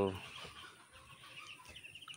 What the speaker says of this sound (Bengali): এইগুলো হচ্ছে মুরগি